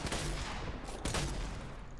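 Rapid bursts of gunfire in the video game Fortnite Battle Royale crackle over a noisy, busy background, with a sharp louder shot midway.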